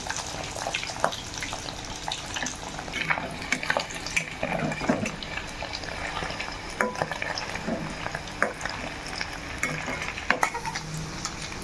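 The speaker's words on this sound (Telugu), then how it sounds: "బాగా మరిగించుకుని ఈ చికెన్ ముక్కల్ని వేపేసుకుని పక్కన పెట్టుకోవాలి" Chicken pieces fry in hot oil in a pan for chicken thokku pachadi. A continuous close sizzle runs under scattered stirring scrapes and clinks, with no voices.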